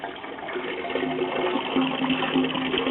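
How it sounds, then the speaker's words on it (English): Rainwater from a garden collection setup overflowing down a drain, a steady splashing and rushing wash that continues without pause, close and moderately loud. "Now it's just overflowing down the drain."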